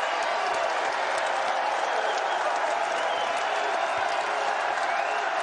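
A basketball crowd at a Dayton versus St. John's college game cheers and applauds in a loud, steady roar that holds for the whole stretch, with dense clapping and scattered whoops throughout.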